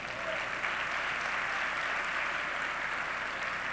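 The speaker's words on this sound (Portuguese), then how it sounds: "Você pode aplaudir ao Senhor?" Church congregation applauding during a Pentecostal-style worship service, a steady, dense wash of clapping that fills the room evenly without pause or voices.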